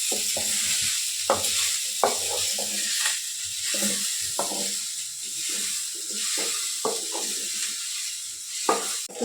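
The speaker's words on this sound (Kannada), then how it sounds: "ಹಾಗಲಕಾಯಿನೂ ಈ ಥರ ಒಗ್ಗರಣೆಗೆ ಚೆನ್ನಾಗಿ ಹುರ್ಕೋಬೇಕು." Bitter gourd frying in a tempering with softened onions, giving a steady close sizzle with occasional stirring clatter throughout.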